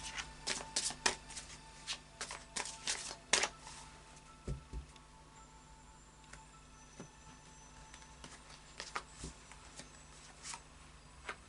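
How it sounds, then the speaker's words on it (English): Anna K Tarot cards shuffled by hand, giving a series of crisp riffling and slapping bursts that come thick at first, then fall to sparse, softer shuffles, close and alone with no talk. "a final shuffle of the Anna K Tarot"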